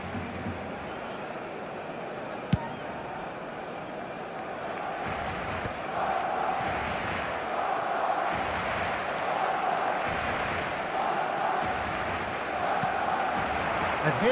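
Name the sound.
crowd reaction in video game eFootball 2025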